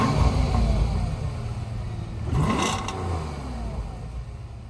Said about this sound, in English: Hidden under an elegant and superb body, a 12-cylinder that sounds like an angel.